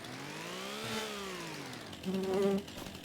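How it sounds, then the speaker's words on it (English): Bees and flies in Farming Simulator 25 buzz around the player: a rising and falling insect drone passes by, then a louder close buzz swells briefly before easing off, with no talk. "You got the bees and the flies flying around you."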